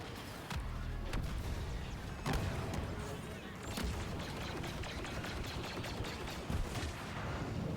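Rapid blaster shots and launcher blasts crackle through a Star Wars Battlefront II multiplayer match, with irregular bursts of gunfire and booms layered over a busy battlefield.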